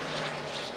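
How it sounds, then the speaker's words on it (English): A large private jet passes overhead with a steady, broad engine roar and high whine, loud and sustained without a break. "That is a nice private jet. That is a beaut. Almost sounds like a real, big jet."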